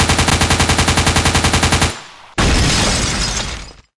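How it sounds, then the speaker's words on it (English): Loud, close automatic machine gun fire rattles off in a rapid, regular burst for about two seconds, then a sharp crack and a harsh, sustained crashing noise that fades out. No talking is heard. "Machine gun!"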